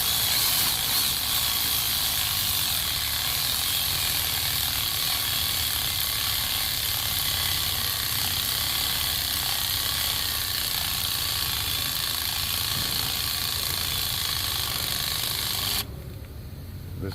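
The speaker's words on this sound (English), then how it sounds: "Definitely not a recommended use for putting in spark plugs is these cordless ratchets." A cordless ratchet spins steadily while tightening spark plugs on a Mercedes Metris with a P0300 misfire, a loud continuous mechanical clicking whir close up that runs for about sixteen seconds before cutting off.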